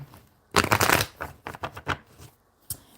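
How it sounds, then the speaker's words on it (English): Tarot cards are shuffled in quick riffling bursts, a long flurry followed by several shorter ones, close up with no talking. "Alright, let me shuffle these up."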